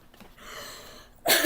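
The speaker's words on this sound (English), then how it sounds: "You can tell I gotta clear my throat." A single rough throat clearing by a storyteller reading a children's novel aloud, a short loud burst close to the microphone following a quiet stretch.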